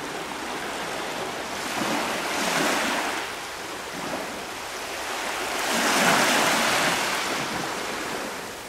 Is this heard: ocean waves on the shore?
yes